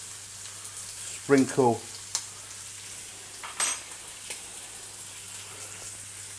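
Rabbit livers fry with onions in a pan, giving a low, continuous sizzle and a few light clinks, while someone briefly speaks over it.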